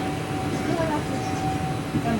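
An Indian Railways train pulls out of the small Chandi Pos station inside the Saranda jungle, a loud continuous rumble of wheels and carriages with a steady tonal whine running throughout.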